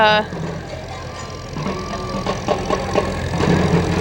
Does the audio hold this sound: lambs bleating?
no